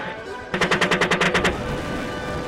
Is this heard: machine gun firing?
yes